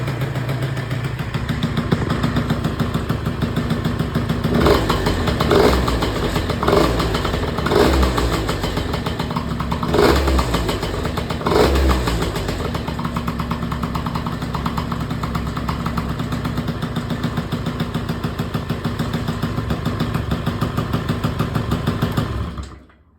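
A Peugeot Speedfight 2 100cc two-stroke scooter idles with a buzzy, rattling engine note, revving up in several bursts before settling back, close by and continuous until it cuts off at the end.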